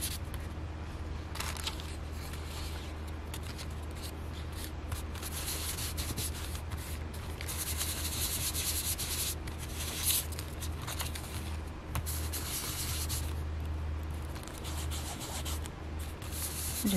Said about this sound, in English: Just rubbing the sponge onto the ink pad and then transferring it to the image.